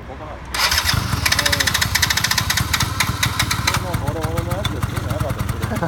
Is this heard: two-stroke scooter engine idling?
yes